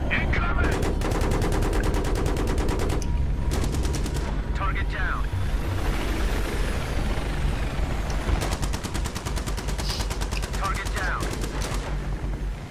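Rapid automatic gunfire from the Battlefield 3 co-op campaign, with dense bursts of rattling shots and explosions filling nearly the whole stretch, loud and continuous with a brief lull in the middle.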